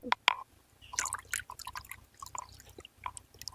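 Water poured into a glass of liquor, a close trickle and splash with dripping and small liquid sounds over a low background hum, no voices heard.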